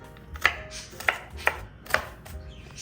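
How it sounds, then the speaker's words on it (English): A knife chops onions on a board for a crockpot beef stew, four distinct sharp chops spaced about half a second apart over a low background. No one speaks. "Chop them up a little bit."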